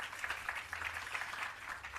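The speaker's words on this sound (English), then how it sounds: "Another round of applause for Dr." Audience applause at the Bureau of Standards Jamaica public relations campaign launch, a steady, fairly faint patter of many hands clapping continuously, with no talk over it.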